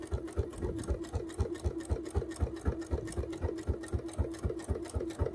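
A sewing machine stitches binding onto fabric, running in a fast, steady mechanical rhythm of close, even stitches throughout with no voices.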